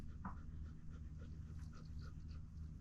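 Dogs pant close by near a tent at a roadside campsite on a cycling trip to Bulgaria, with steady, quick breaths over a low outdoor rumble and no talking.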